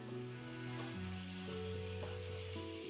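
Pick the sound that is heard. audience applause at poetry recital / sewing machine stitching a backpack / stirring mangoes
stirring mangoes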